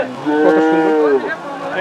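A cow at a livestock market in Chattogram before Qurbani Eid gives one loud, close moo that holds for about a second and then trails off, with faint crowd noise behind it.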